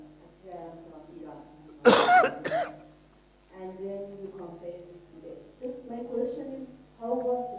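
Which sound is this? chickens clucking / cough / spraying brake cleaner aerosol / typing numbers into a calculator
cough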